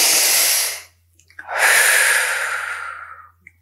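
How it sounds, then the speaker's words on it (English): Deep, slow breaths taken during a calming meditation, close and loud: a long exhale trailing off, a brief pause with small sniffs, then a full drawn-out breath fading away, with no speech. "So let's take a couple of deep breaths."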